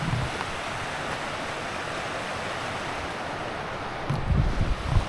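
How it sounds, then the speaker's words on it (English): A river rushes beside a campsite on a backpacking trip in Canada, a broad, steady hiss of flowing water heard continuously from close by, with brief low rumbles of wind or handling near the end. "See the river's right there."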